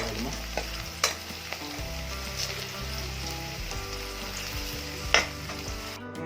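Potatoes frying in a pan for a village-style egg curry, with a steady loud sizzle, several sharp spatula scrapes and clatters as they are stirred, and no talking.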